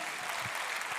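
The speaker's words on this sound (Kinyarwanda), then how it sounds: "Nimba bimeze bityo komera Imana amashyi." A church congregation claps in praise during a sermon, a brief burst of steady, full applause from the gathered crowd.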